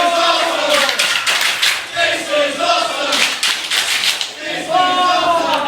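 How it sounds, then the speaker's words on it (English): A wrestling crowd in a hall chants in loud rhythmic bursts, the repeated phrases rising and falling steadily with clapping mixed in, no single voice standing out. "this is awesome chant coming from the crowd here"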